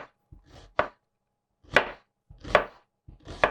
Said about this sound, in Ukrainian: І так, цибулю до квасолі такими півкільцями наріжу.